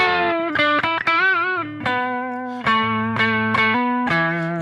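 An electric guitar picked through a BOSS GT-1000 processor into a Roland JC-120 in stereo plays a loud, distorted melodic phrase with sustained notes and a few quick slides, no voice over it.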